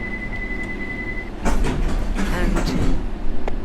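A London Underground Circle Line train in a simulator game pulls away from the platform, a steady hum and rumble growing louder with clanks and door-like thuds layered over it.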